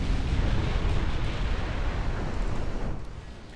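The warship Goliath explodes and sinks in the naval game Ultimate Admiral, a loud, sustained rumbling roar of blast and fire that slowly fades over a few seconds, with no voices.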